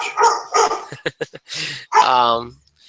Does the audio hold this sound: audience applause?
no